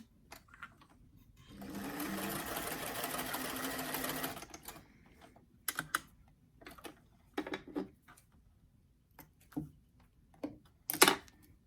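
A sewing machine runs in one steady burst of about two seconds, stitching the side seam of a doll dress, followed by scattered clicks and handling knocks in a quiet room.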